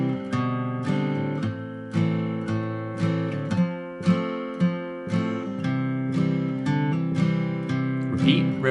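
Acoustic guitar plays a walk-down exercise, moving from the first riff into the second in steady, evenly spaced picked and strummed chords with ringing harmonics, close and clear with no talking.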